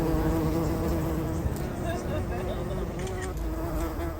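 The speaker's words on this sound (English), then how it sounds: "also covered with bumblebees" Bumblebees buzz around common figwort flowers in a small English garden, a close continuous droning hum with faint background sound underneath.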